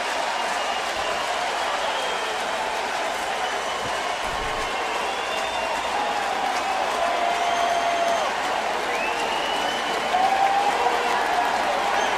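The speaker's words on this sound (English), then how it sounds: "Just energizing this crowd, which almost seems like a hometown crowd, like you mentioned." A baseball stadium crowd at a Tigers game roars and applauds continuously after back-to-back home runs, a dense wash of cheering and clapping lasting throughout, with faint announcer talk beneath.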